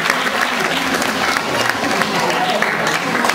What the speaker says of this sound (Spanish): Démosle un fuerte aplauso.